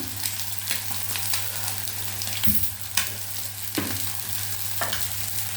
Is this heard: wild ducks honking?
no